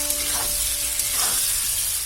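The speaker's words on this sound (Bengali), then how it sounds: "পেঁয়াজ আর রসুন এই যে এইভাবে কেটে রেখেছি, এগুলো দিয়ে এখন ভাজা করে নিতে লাগবে সুন্দর করে।" Chopped onion and garlic fry in a pan for a fish curry, giving a loud, steady, close sizzle with faint stirring and no voices.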